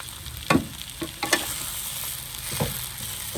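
Curry leaves frying in oil for a tomato curry, a soft steady sizzle broken by a few sharp scrapes and clacks of a spoon stirring the pan, fairly quiet and close with no voices.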